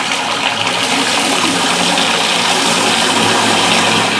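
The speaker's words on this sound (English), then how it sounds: "So I'll put water here to wash the spinach." Tap water runs steadily into a basin to wash spinach in a home kitchen, a loud continuous splashing gush that fills the whole moment with no talking.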